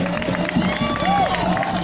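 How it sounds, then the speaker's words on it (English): Crowd noise at an outdoor anti-lockdown rally, a loose murmur of voices and scattered cheering heard under a nearby voice. "There's a good crowd now."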